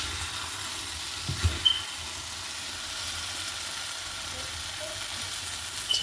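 Chicken for biryani sizzles in a pan while it is stirred and mixed, a constant frying hiss with a few soft scraping knocks of the spoon.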